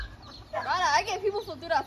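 Chickens clucking nearby in an outdoor Hawaii setting, a short burst of several quick clucks at moderate volume with faint background noise.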